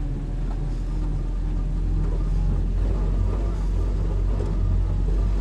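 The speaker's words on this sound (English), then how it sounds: "Yeah, I can hear that low range, those big straight cut gears. Oh yeah, crawling." Willys jeep crawling off-road in low range, straight-cut gearbox engaged, giving a steady, close, low engine rumble with a faint whine running beneath it throughout.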